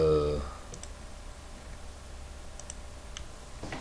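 A computer mouse gives a few light, soft clicks, faint and close, spread across a quiet room tone after a brief voice at the start.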